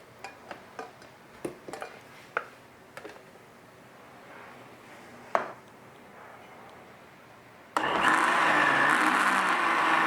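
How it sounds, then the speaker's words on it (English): A kitchen blender pureeing a sauce starts up after several sharp taps and clicks of the jar and lid, then runs with a loud, steady whirring roar. "We're gonna put it in the blender."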